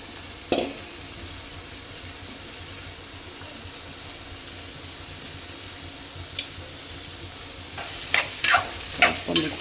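Pumpkin pieces added to softened onions in a pan for a palya, frying under a faint steady sizzle, with a few sharp clicks of a spoon stirring near the end.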